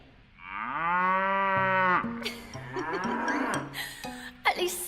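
A cartoon cow gives one long, loud, drawn-out moo, followed by brief voiced sounds and a few rustles.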